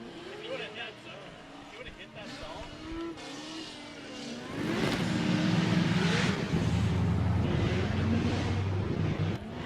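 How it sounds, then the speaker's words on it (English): Drift car doing donuts at Mission Raceway Park during a competition round, engine revving and tires squealing in a rising, sustained roar at moderate distance beneath an announcer talking over a PA. "as we send Marco out for the day, he's going to give us some donuts"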